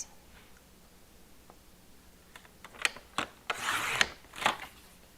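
Card stock being trimmed to A2 card size at a craft table, a few close scraping and cutting strokes ending in a louder rasping slide, with no talking.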